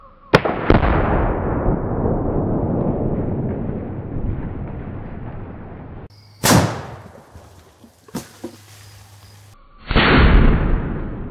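A shotgun fired at bowling pins outdoors, delivering a loud close blast with a long rolling echo, followed later by further sharp bangs and a rumble.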